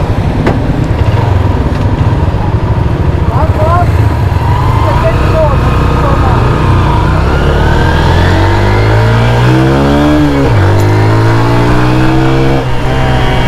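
A Honda CB 150F motorcycle engine revs up loudly and close, its pitch climbing in repeated rising sweeps with a drop and fresh climb as it shifts gears, over constant riding wind noise.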